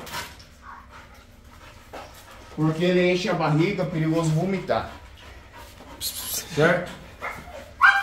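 Pit bull during a training session, heard in brief panting and barking bursts close by, mixed in with a person talking throughout.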